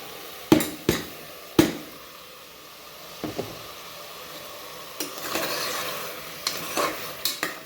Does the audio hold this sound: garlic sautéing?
yes